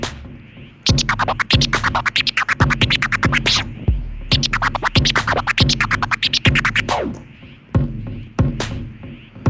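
Rapid, rhythmic hyper chirp turntable scratches in bursts, sharp stuttering cuts over a beat, loud and close.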